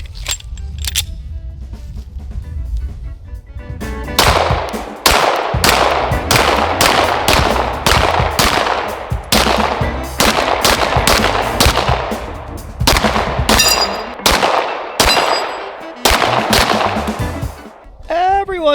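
Dusk 19R 9mm pistol firing 124-grain XTP carry ammunition at an outdoor range, loud sharp shots in quick strings with brief pauses between groups, followed at the end by a metallic clatter.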